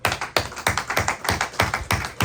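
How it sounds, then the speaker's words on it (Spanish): A church congregation claps in praise during a sermon, loud, close, strongly rhythmic slaps falling at an even beat, about four per second, with no talk over them. "tenemos que darle un aplauso"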